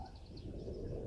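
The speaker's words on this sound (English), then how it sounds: "There's a Cape turtle dove that I can hear right now." A Cape turtle dove gives a brief, faint coo in thick, jungle-like bush, heard over soft background ambience.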